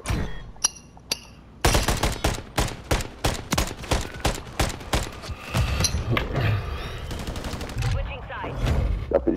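MCW rifle gunfire in Call of Duty MW3: a few sharp single shots, then a rapid run of loud, close automatic bursts in a steady rhythm, trailing into scattered distant fire and game noise.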